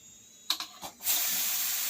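A pressure cooker, cooking mixed vegetables, opens with a few short puffs before a steady, loud hiss of escaping steam takes over and continues to the end.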